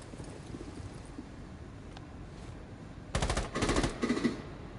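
Bursts of rapid automatic gunfire from a Rainbow Six Siege match, quiet at first, then a loud rattling volley around the middle and several more close bursts in quick succession.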